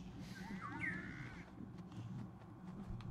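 A crow-like bird caws in the video game Ghost of Tsushima, a single harsh call at moderate distance over a steady outdoor ambience.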